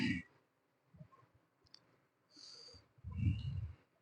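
A computer mouse clicks a few times while someone steps through a vSphere backup and recovery wizard, the sparse, soft clicks set apart by quiet gaps with low handling or breathing noise between them.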